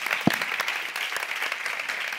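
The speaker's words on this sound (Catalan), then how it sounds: "Un aplaudimiento para Fernando Moraño." Audience applause at a live Catalan-language comedy show, a steady wash of clapping hands throughout with one sharp louder clap near the start, no clear voices on top.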